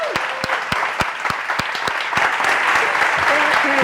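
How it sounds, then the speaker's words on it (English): Audience applause for a startup named Antiestablishment at a Startup Grind Barcelona event, a steady crowd clapping throughout with a few sharp, loud claps standing out near the front. "We'll give the biggest rock star applause to Antiestablishment."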